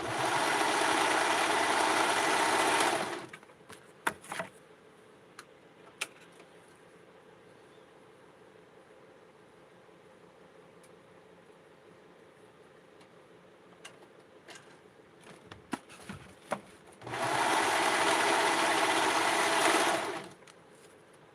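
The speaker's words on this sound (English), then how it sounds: "I'm going to serger this too" A serger overlock machine stitches Barbie blouse fabric in two loud, steady whirring bursts, roughly three seconds at the start and three near the end, with quiet handling noises between them.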